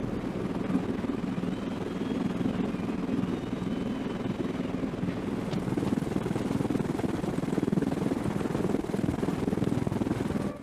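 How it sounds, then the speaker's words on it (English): A V-22 Osprey tiltrotor aircraft hovers over a submarine at sea, its rotors producing a loud, steady, throbbing drone that holds unbroken throughout. "the V-22 can hover over a submarine at sea"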